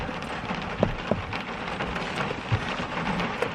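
Rain falls steadily in Ireland, a close, constant patter with a few louder drops knocking nearby and no talk over it.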